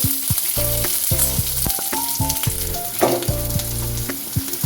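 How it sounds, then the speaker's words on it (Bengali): Cubed capsicum and onions stir-fry together in a pan with a bright, continuous sizzle and occasional stirring scrapes, while a melodic tune plays over it throughout. "ক্যাপসিকামটা একটু পেঁয়াজের সাথে নাড়াচাড়া করে নিচ্ছি"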